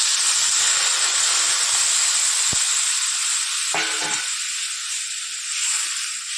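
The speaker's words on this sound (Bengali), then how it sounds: "কালো জিরা ফোড়ন দিয়ে আলুটাকে ভেজে নিয়েছি তার মধ্যে মশলাটা দিয়ে ভেজে নিলাম মাছগুলো দিয়ে দিয়েছি" Potatoes and katla fish frying in a pan with spices and black cumin, a loud, steady, close sizzle and hiss throughout, broken by a couple of brief knocks from stirring.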